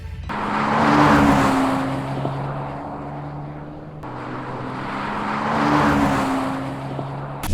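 A 2025 Hyundai IONIQ 5 N's engine sound revs up and falls back twice in a row, its exhaust note swelling loud and close before easing off.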